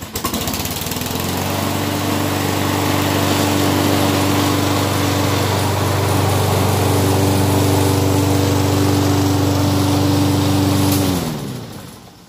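A 22-inch Toro walk-behind lawn mower cuts turf-type tall fescue with a steady, loud, close engine drone that holds for about ten seconds and then winds down as it shuts off.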